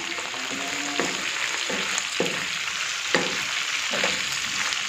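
Chopped onions with curry leaves and broken dried chillies sizzle steadily in hot oil for horse gram rice, with a few soft stirring scrapes every second or so, close and continuous, no voices.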